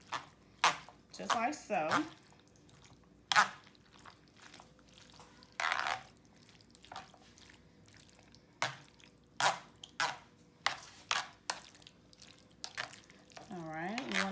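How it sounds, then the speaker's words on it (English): A spoon stirs ingredients into baked beans in a pot, making irregular wet scrapes and soft clinks spaced a few seconds apart, close by, with a few words spoken. "I'm just going to stir everything into the baked beans"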